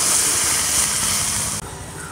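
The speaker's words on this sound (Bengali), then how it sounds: "গরম হয়ে গেছে, হাফ ফোড়ার মতো জল দিয়ে দাও।" Hot, half-boiled water pours steadily into dough for palm luchi, a continuous bright hissing splash that cuts off abruptly near the end.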